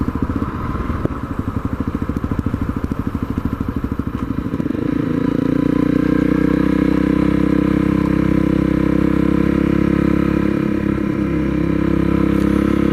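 A Honda CRF250L motorcycle engine runs close by while riding slightly uphill, a loud steady chug that smooths into a higher, even drone.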